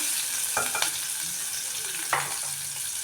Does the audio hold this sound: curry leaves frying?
yes